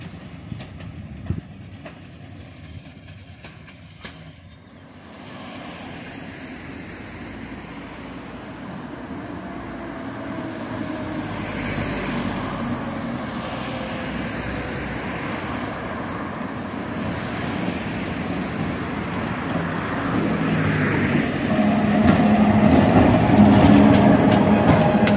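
An 82-year-old vintage museum tram running along a line in Budapest, with a steady rolling rumble and rail noise that grows louder toward the end and no voices.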